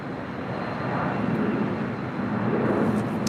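Airliner arriving at LAX, a Pond Airways flight in from Tokyo Haneda, its engines producing a steady, broad roar that holds throughout, fairly loud with no voices over it.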